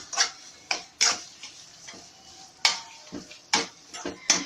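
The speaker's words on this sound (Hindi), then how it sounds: "चीनी शामिल करने के बाद आप इसको अच्छे से भूनें।" Bottle gourd halwa is stir-fried with sugar in a pan, heard as a soft sizzle under sharp intermittent scrapes and clinks of a spoon against metal, irregular and close.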